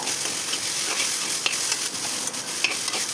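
Ginger garlic paste frying in oil in a pan for a healthy recipe, a loud, steady close sizzle with spatula scrapes and stirring clicks throughout.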